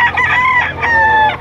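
A rooster of about 11 months, at a chicken market in Lipa, Batangas, crows once, loud and close, in a short drawn-out call.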